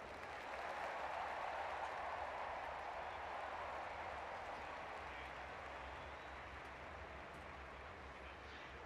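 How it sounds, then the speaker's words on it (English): Stadium crowd at the London 2012 Paralympic Games in the Olympic Stadium applauding a morning athletics field event: a dense, steady roar of clapping and cheering that stays loud and even throughout with no gaps. "give them all a massive Paralympic, London 2012, Olympic Stadium, round of applause"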